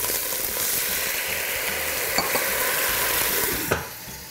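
Mussels with white wine sizzle loudly in a hot pan, a dense continuous hiss with a few stirring scrapes and clinks, close up and without talking, easing slightly at the end.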